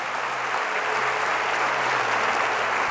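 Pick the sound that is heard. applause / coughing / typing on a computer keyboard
applause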